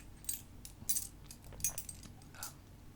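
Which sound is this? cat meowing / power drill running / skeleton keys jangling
skeleton keys jangling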